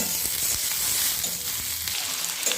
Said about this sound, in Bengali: ভাজা ভাজা হচ্ছে, আমি মাছের তেলটাও দিয়ে দিয়েছি